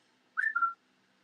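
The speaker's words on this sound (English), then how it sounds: "I've also been whistling a lot lately." A person whistles a short two-note phrase alone, the first note rising and the second held slightly lower, fairly close and moderately loud against a quiet room.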